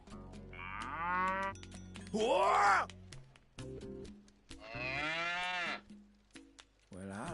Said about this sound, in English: Bororo cattle. Looks like good eating.